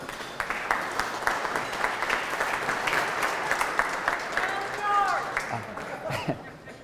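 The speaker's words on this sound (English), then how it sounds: "So a round of applause for George Miller." An audience at an investor dinner applauds, a steady round of clapping with crowd murmur that fades out near the end as voices take over.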